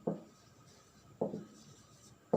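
Chalk or marker strokes on a board in a class 12 chemistry lesson, three short scratchy bursts spaced about a second apart, close and fairly quiet with no talking over them.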